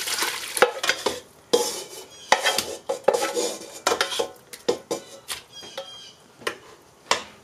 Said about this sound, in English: I'm going to go ahead and pour all the chicken into this kettle with the juice.